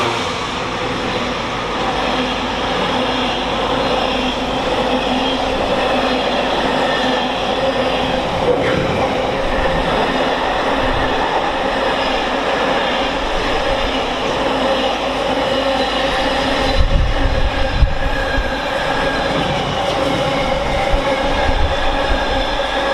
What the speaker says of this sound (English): next freight service is another Freightliner from Felixstowe to Trafford Park. 66559.